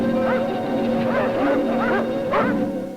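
Antarctic sled dogs bark and yip in a run of about six sharp, close barks with short gaps, over a steady background hum.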